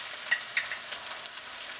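A pork and beef mince curry is stirred in a hot pan, a soft steady sizzle with a few sharp scraping clicks from the spoon, close and alone.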